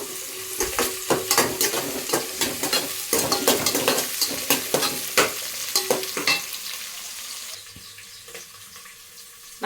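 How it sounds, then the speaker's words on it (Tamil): Onions sauté in a pan for biryani, with a steady sizzle broken by repeated sharp stirring scrapes and clinks of a utensil, which thin out and quieten toward the end. "வெங்காயம் நல்லா வதங்கட்டும்."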